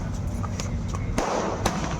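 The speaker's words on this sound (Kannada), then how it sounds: "ಪಟಾಕೆ ಚೆನ್ನಾಗಿ ಹೊಡಿತಾವಪ್ಪ" Firecrackers burst at a birthday party in two or three sharp, loud cracks over a dense background of continuous crackling and popping, with no talk.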